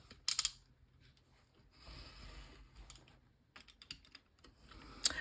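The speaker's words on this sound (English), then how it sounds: "I'm going to cut right along this middle edge." Scissors cutting paper along a fold, with quiet crisp snips and rustling, a few sharper clicks near the start and end, and soft scraping between them.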